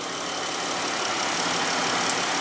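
A 2015 Chrysler Town and Country minivan with a 3.6 L V6 idles smoothly, a steady, even engine hum that holds constant throughout, with no voices over it.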